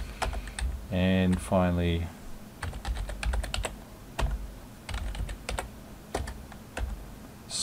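Rapid clicking of typing on a computer keyboard while working in a BBS menu editor, bursts of keystrokes near and fairly loud, with someone speaking briefly over the first part.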